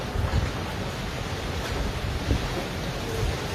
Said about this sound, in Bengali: বাহিরে প্রচণ্ড বাতাস,